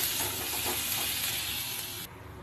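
A prawn filling for stuffed pointed gourd fries and sizzles in a pan while being stirred, a steady close hiss and scrape that cuts off abruptly near the end.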